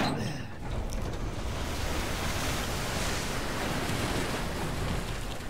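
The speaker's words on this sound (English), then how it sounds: "pull this. It's going to drag a boat out of the water" A boat being dragged out of the reservoir water in Resident Evil Village: a steady, loud wash of churning water and rushing noise that holds for several seconds.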